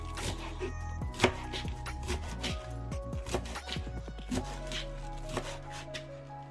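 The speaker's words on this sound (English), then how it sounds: "I'm just going to cut up the mustard greens" A knife chops mustard greens on a cutting board in quick, steady strokes, close and fairly quiet, with no talking.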